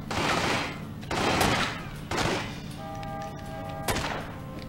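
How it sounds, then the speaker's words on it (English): Bursts of gunfire in The Godfather Part II video game, several loud volleys of rapid shots in succession with short pauses between them, close and dominant, with no voices over them. "Who's shooting at me?"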